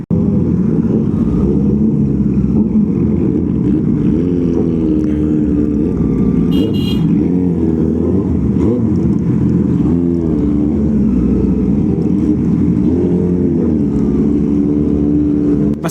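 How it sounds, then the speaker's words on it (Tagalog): Big bike motorcycles, among them a Kawasaki Versys 650, ride through a narrow residential street with a loud, continuous engine drone that rises and falls gently and never drops out. "Yung normal na ugong lang ng mga motor namin ang maririnig nyo. Pero dahil big bike, malakas na rin ang ugong."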